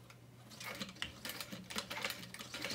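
Sewing machine stitching along the top edge of a handbag, a steady quiet rapid ticking whir running throughout at low volume.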